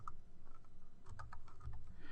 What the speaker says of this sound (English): start typing in the fields